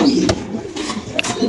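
A pigeon on a home pigeon farm coos in low, soft calls over steady background noise, with a couple of brief sharp sounds between them.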